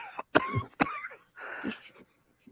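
A person coughs several times in quick, harsh bursts, close to the microphone, with a brief spoken word in between.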